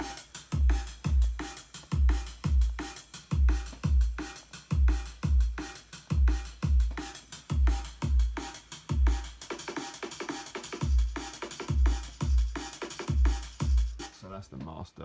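A drum track bussed through a limiter plays back with a steady, punchy kick-and-snare beat, dense and compressed, loud and continuous with no voice over it.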